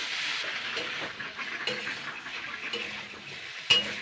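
Chopped vegetables with salt, sugar and turmeric are stirred in a lightly oiled pan, a faint soft sizzle under repeated scraping strokes of a spoon and one sharper clack near the end.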